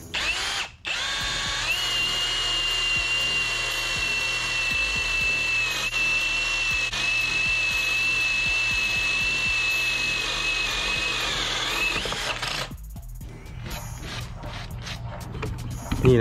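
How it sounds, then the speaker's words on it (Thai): A PUMA PM-280BL brushless cordless drill bores a hole about one inch across into hard solid wood, giving a steady, loud, high motor whine for roughly twelve seconds before it stops and wood chips rattle. "ลองเจาะดูนะเรามาลองดูแบบไม้จริงบ้างนะครับ"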